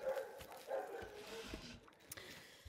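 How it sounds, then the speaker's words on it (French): Dogs in a garden bark in a few short, faint bursts from a distance, the sound thin and scattered against a quiet outdoor background. "je suis dans mon jardin, les chiens aboient"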